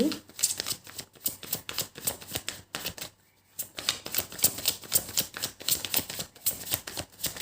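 Tarot cards are shuffled in a steady run of crisp, rapid riffles and flutters close by, with one short pause partway through.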